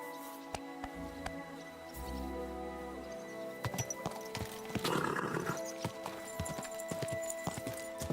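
A horse in Kingdom Come Deliverance 2 clops along at a walk with scattered hoof hits and a brief snort-like burst midway, over a low ambient bed with some faint voice.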